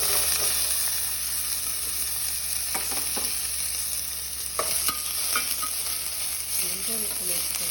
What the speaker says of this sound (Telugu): ఉల్లిపాయ కొంచెం 5 నిమిషాలు మగ్గాలండి.